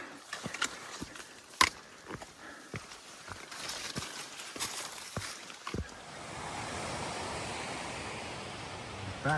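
A creek along a hot summer hiking trail, its water rushing as a steady broadband wash that rises in the latter half, preceded by crunching footsteps on the path.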